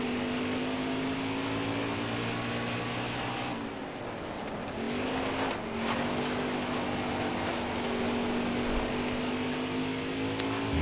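Race car engines from the NASCAR Heat 4 video game drone steadily and loudly throughout, a sustained engine tone that dips briefly and then returns at a constant pitch, with no talking.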